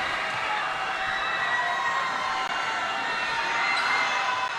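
Fans at a high school girls basketball game make a dense, steady roar of cheering and shouting that holds at full volume for several seconds without letting up.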